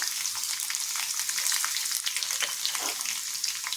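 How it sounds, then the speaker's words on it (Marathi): Peanuts and finely chopped garlic fry in hot oil, giving a close, steady crackling sizzle with small pops throughout and no voices. "आता टाकायचं आहे लसणाचे बारीक बारीक तुकडे"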